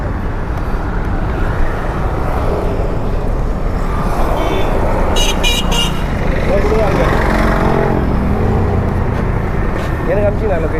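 Dense road traffic with motorbikes and cars in an Indian city street, a steady loud wash of engine noise close by, with a short burst of horn or beeping partway through and muffled voices under it.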